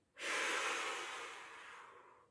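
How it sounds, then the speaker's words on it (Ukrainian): One long breath is blown out during a breathing exercise, a close, steady airy exhale that starts abruptly and slowly fades over about two seconds, with no talking. "дмухаємо, випустили повітря"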